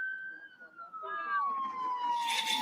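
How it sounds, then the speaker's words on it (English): A wailing siren sweeps downward and slowly drifts lower, loud and fairly near, joined by a brief burst of higher noise at the end. "Sorry about the sirens, guys."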